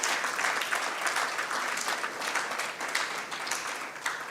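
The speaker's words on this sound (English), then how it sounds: "So you deserve a resounding round of applause for what you have achieved." Sustained applause from a conference audience at a radiologists' association annual general meeting, dense clapping that holds steady for several seconds with a few louder swells.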